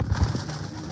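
Hansraj pigeons at a breeder's home loft coo in soft, low murmurs, close and continuous over a steady background hum.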